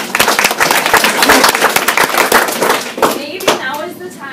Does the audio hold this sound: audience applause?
yes